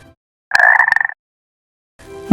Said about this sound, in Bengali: একটি ছোট বিষ ডার্ট ব্যাঙ জোরে জোরে ডাকছিল